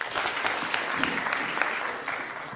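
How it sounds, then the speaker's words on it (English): An audience at an economics summit claps for a speaker, a fairly soft but continuous patter of many hands with a few louder claps, fading slightly toward the end. "Give him a clap"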